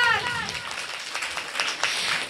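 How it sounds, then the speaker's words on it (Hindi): A church fellowship audience applauds the singers after a Christian song, uneven clapping that starts behind a brief voice and carries on, scattered and moderately loud. "जिनको गाना पसंद आया उन लोगों के लिए जोरदार तालियां बजाएंगे।"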